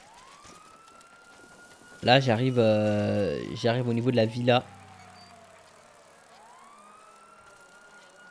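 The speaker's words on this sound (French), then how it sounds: "Et là, on entend les sirènes." Police sirens wail loudly in a video game, a wavering electronic siren bursting in for about two and a half seconds over someone narrating in French, with engine noise beneath.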